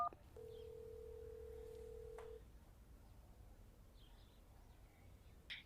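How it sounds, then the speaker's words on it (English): A cell phone dials 911 on its keypad, a single sustained electronic tone for about two seconds followed by faint, quiet clicks and low background hiss. "you dial 911 on your cell phone"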